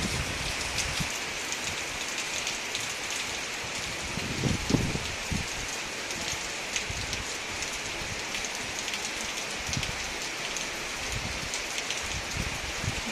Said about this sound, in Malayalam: ഇതിപ്പം വൈകുന്നേരം ആവുന്നവരെയും മഴ പോകുന്നേയില്ല